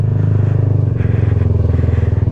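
A Kymco Xciting 400i scooter cruising on a wet road, its engine giving a steady, close low drone with a regular pulsing rhythm and a faint hiss of spray over the whole stretch.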